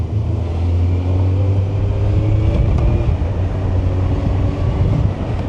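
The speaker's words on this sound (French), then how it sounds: "Et même le bruit du KTM 2 cylindres là" A KTM two-cylinder motorcycle engine runs steadily with a low, droning hum and an even engine note throughout, loud and close, with wind and road noise around it.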